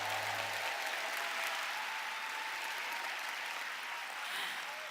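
Sustained applause from a church prayer-meeting audience, a dense even wash of clapping that holds for several seconds, with a brief exclamation from a voice at the very start.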